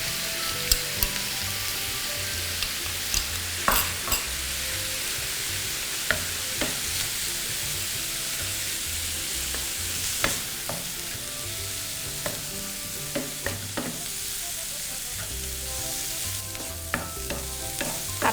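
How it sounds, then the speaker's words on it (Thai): Shrimp and Thai roasted chili paste are stir-fried in a pan, giving a steady oily sizzle broken by sharp scrapes and clinks as a utensil stirs. The stirring strikes come irregularly over the continuous frying. "กุ้งเริ่มสุกแล้วนะคะ เราก็จะใส่ตัวพริกเผานะคะ ที่เรา ทำเอาไว้นะคะลงไปผัด"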